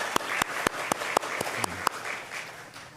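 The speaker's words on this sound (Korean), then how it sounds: "잘 먹었습니다. 박수." Church congregation applauding after a shared meal at a Korean afternoon worship service, with a few distinct, evenly spaced claps standing out over a soft, steady patter of applause in a room.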